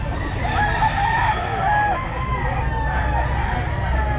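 Roosters crowing and clucking at an outdoor pet market on a drizzly day, with overlapping calls under a steady murmur of crowd noise.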